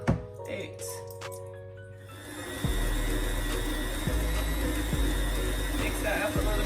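An electric mixer blends banana bread batter. A loud, steady whirring drone kicks in after a couple of seconds, with occasional low knocks as the beaters hit the bowl.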